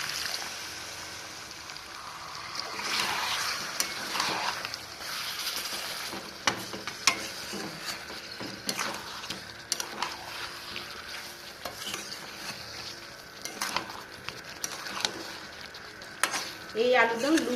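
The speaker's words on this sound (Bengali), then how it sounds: "আমি সামান্য জল দিয়ে কষিয়ে নেব।" Potatoes for a vegetarian aloo dum sizzle in a pan with a little water while a spoon stirs and scrapes them in irregular bursts, the frying hiss rising and falling across the stretch.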